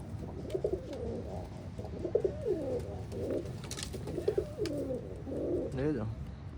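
Newly brought pigeons inside a loft give a series of soft, throaty coos in short repeated bursts, close and distinct against a low room murmur.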